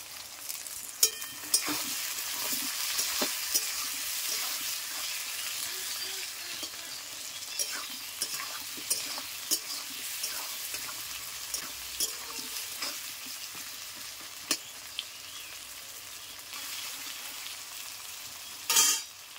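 Chopped tomatoes go into a pan of frying onions and potatoes, giving a continuous close sizzle broken by frequent sharp scrapes and clicks of a stirring spoon, with a louder clatter near the end.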